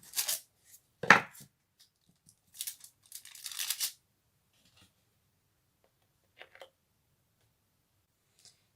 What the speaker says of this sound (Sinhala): මම මේ වගේ භාජනයක් පාවිච්චි කරලා මේකේ රවුම් කඩා ගන්නවා ලස්සනට